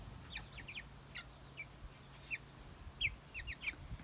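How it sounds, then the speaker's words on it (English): Young Faverolles chicks outdoors give scattered, faint high cheeps and soft clucks, a few short calls at irregular intervals over a low steady background hum. "My tiny Faverolles chicks are growing."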